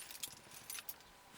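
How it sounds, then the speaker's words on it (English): Keys are set down on a surface inside a tent on a canoe expedition, giving a few quick bright metallic jingles and clinks in separate bursts, close and fairly quiet, with no talking. "Put my keys up here."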